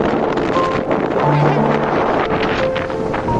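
Strong, steady seashore wind buffets the microphone, a continuous loud rumble with faint surf beneath, no voices.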